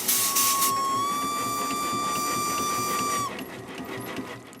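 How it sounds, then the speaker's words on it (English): Steam traction engine building up steam to drive a threshing machine on a Victorian farm: a loud, steady whistle-like tone over hissing and mechanical clatter, cutting off abruptly after about three seconds and leaving lower rumbling noise. "It should start to build up steam in about 3/4 of an hour."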